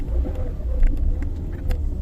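Steady low engine rumble and road noise inside a moving car, a continuous muffled drone with faint higher clicks and rustles over it, no voices.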